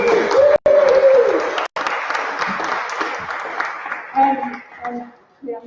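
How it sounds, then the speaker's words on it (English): Audience applause at an awards ceremony, the Australian Access Awards, a dense wash of clapping from a large indoor crowd with a voice audible over it near the start, thinning to scattered claps at the end. "So give yourselves a round of applause."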